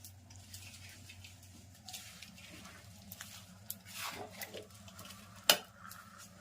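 Spoon stirring a ghee and coconut mixture for gundar pak in a pot, quiet scraping and soft squishing strokes with occasional clinks and one sharp metallic tap, close and faint.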